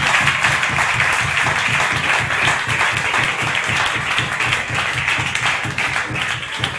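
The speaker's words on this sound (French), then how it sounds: "Acclamons très très fort pour la gloire de Seigneur." A church congregation applauds in a steady, dense wave of clapping that runs unbroken throughout, full and close, with a faint murmur of voices underneath.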